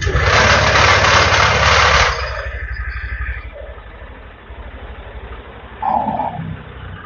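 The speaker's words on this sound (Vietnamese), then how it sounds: "Bây giờ cho nổ máy đi, mình cho nổ máy đi." A Honda Air Blade 125 scooter with a high fuel consumption complaint runs after its engine control unit is reset to factory settings. A loud broadband burst is followed by a steady, low, even idle hum, with a brief higher tone near the end.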